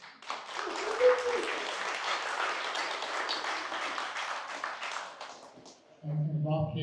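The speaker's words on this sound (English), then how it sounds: "Richardson Mayor, Amir, Omar, can we have a big round of applause?" Audience applause at a celebration lunch with city council members, sustained steady clapping from a crowd for several seconds, then fading as a voice begins speaking.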